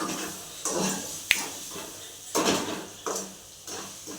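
Maggi noodles being stirred in a pan, with a few scattered scrapes and clinks of a utensil against metal, faint and close, separated by brief pauses.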